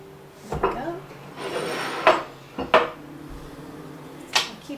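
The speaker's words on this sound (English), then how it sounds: "I'll keep that handy so I can stir it now." A spoon stirring butter in a bowl, giving several distinct scraping and knocking strokes spaced a second or so apart, close and moderately loud.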